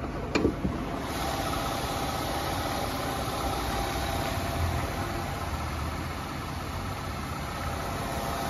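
A 2008 Volvo XC70 AWD with its 3.2-liter engine idling under an open hood, giving a steady, even mechanical hum with no hissing, and a brief click near the start.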